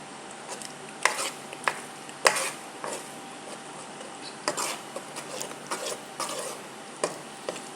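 A thick chocolate mixture with Star margarine is stirred in a pan for chocolate moron, making irregular scraping strokes and sharp clinks of a utensil against the pan, close and unhurried, with no talk over them.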